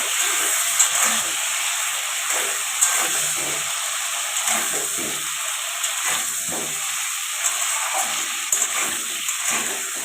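Hog plums (amra) fry in a pan for a sweet-and-sour chutney, giving a continuous close hiss and sizzle with soft scraping stirs throughout, no speech.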